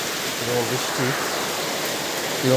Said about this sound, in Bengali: বৃষ্টি দিচ্ছে আজকে।